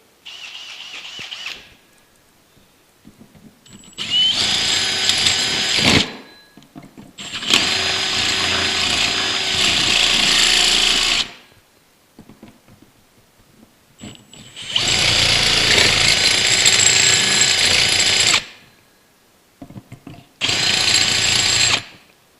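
A power tool runs at high speed deburring a freshly cut snorkel hole during a Go Deep snorkel install on a Sportsman 570, in loud close bursts of whining grind separated by short pauses, five runs in all.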